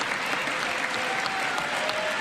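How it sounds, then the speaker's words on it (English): Audience applause filling the space, a steady dense wash of clapping from a crowd at a live show, loud and sustained throughout with no talk over it. "this is going to be an applause"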